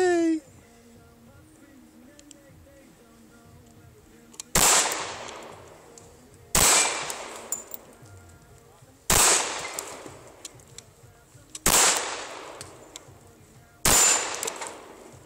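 Five sharp pistol shots from a Remington 1911R1 fire outdoors at irregular intervals of about two seconds, each a loud crack with a ringing decay, following a brief opening stretch of quiet.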